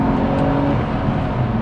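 A 20-year-old rear-wheel-drive BMW Z4 engine revs in a brief, steady, throaty roar heard up close with no talking.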